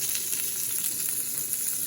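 A steady bubbling hiss fills the clip, dense and even, of rice boiling hard in a pot close by, with no voices over it.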